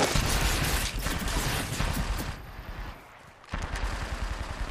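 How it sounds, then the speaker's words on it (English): Rapid automatic gunfire crackles in an Apex Legends match, dense bursts of shots with a short lull before the firing resumes, no voices over it. "Wait, are you shooting some dude?"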